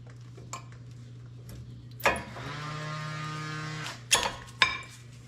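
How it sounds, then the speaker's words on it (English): New front brake pads snap into the caliper clips with a bright metallic clink that rings on briefly, followed by a couple of quick, close clicks over a steady mains hum. "the new pads, they just snap in to these grooves into those clips."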